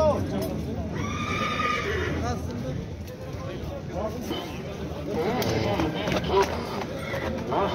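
Horses at a Kyrgyz horse market neigh and whinny loudly nearby while hooves clip-clop, all under steady talk and a busy crowd murmur throughout.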